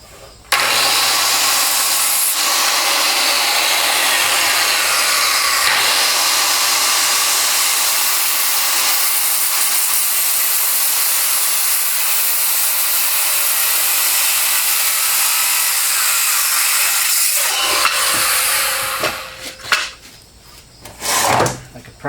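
A power saw whines loudly and steadily while cutting a notch in a wooden form board for cement steps, running nearly twenty seconds before spinning down, followed by a few short knocks.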